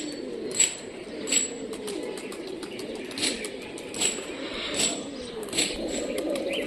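Local Rajshahi flying pigeons, including a red pilong pigeon, coo in low, rolling phrases that repeat steadily, with sharper chirps popping up at intervals over a constant bird backdrop.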